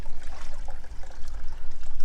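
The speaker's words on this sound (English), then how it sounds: "The water flow increased a little bit." Water flowing and trickling through a sloped tub, a close, lively splashing and gurgling stream with constant bubbling pulses and no talk.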